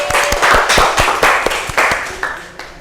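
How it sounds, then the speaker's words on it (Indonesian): A classroom of students claps for a classmate after her answer in a school lesson, a short burst of scattered, uneven hand claps that thins out and fades within a few seconds. "Oke, tepuk tangan buat Amira."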